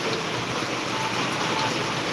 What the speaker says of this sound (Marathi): तर बघा किती जोरदार पाऊस चाललाय आहे आमच्या गावात